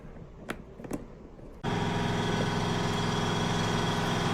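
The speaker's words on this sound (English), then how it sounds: "I swear my compressor has something against me today. Every time I need it to not be on, it's on." A workshop air compressor kicks on abruptly after a few quiet clicks and knocks, then runs with a loud, steady motor drone and hum to the end, with no talking.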